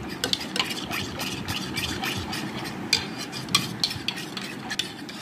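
A spoon stirs and scrapes a thick homemade hair pack around a bowl, with steady close-up mixing and rubbing sounds and a few sharper clicks against the bowl's side, no talking.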